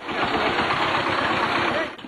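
A bhotbhoti, a country motor vehicle, runs in Barogoja village near Salanga: a loud, close engine chugging with a steady, rhythmic low throb beneath a dense, continuous rattle for the whole stretch.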